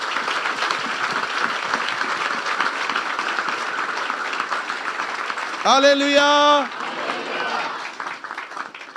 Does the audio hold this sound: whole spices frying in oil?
no